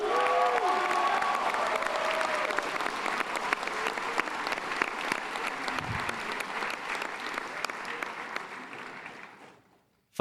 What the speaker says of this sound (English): Graduates, give yourselves a round of applause.